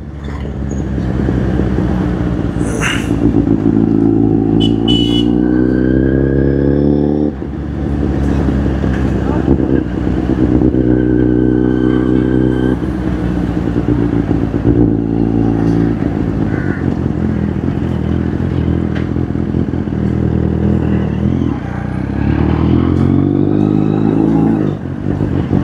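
A Kawasaki Z800 motorcycle revs repeatedly in a village street, its engine note climbing in strong surges and dropping back several times, loud and close, with someone speaking now and then.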